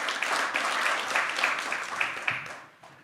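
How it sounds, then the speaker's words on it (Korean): An audience at a talk concert for Vietnam War veterans and bereaved families applauds to welcome a National Assembly member, a dense, even wash of clapping that fades out near the end. "박수로 환영해 주시길 바랍니다."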